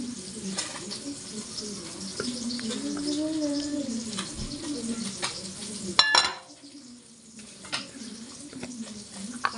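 Garlic and pepper frying in a pan, a close crackling sizzle with a stirring clatter of a utensil against the pan midway, and someone talking over it.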